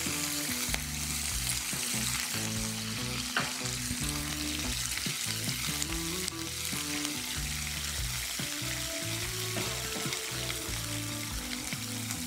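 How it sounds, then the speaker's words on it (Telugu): Garlic pieces and curry leaves frying in hot oil, a steady, dense sizzle running throughout under background music with a melody. "వెల్లుల్లి ముక్కలు వేసుకోవాలి."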